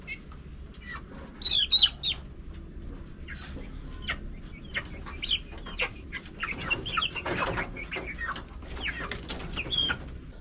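Backyard hens clucking and calling in short, scattered bursts at close to middle distance over a low rural background hum, with a few sharper squawks and no speech.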